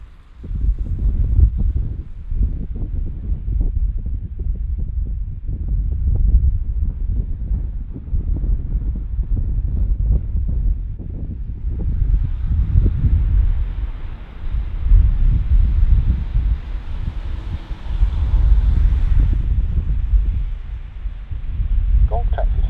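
Strong storm winds buffet a microphone at Bristol airport during Storm Dudley, a continuous loud low roar with gusty swells and rumbling throughout, joined midway by a steadier higher hiss, no speech audible.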